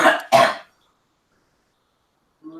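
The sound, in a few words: person coughing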